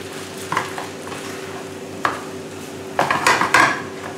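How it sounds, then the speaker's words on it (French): Rice being stirred gently in a hot pan for nasi goreng over lowered heat, with a steady faint sizzle and scattered scraping spoon strokes and clinks against the pan, a few louder clusters near the end. "Il faut mélanger délicatement pour ne pas écraser le riz"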